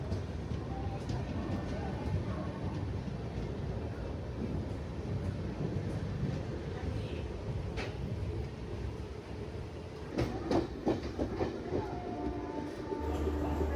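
A MEMU passenger train rumbles steadily at Khurda Road junction, with a constant low roar of rolling wagons and faint rail clatter building near the end; the sound is continuous and fairly loud, with no clear speech over it.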